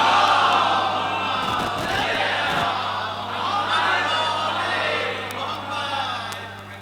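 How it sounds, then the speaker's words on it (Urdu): A large crowd at a religious majlis gathering recites salawat in unison, a loud, continuous collective chant of many voices with a rising and falling swell, steady over a low hum throughout. "ایک صلوات اور پڑھ لیں محمد و آل محمد"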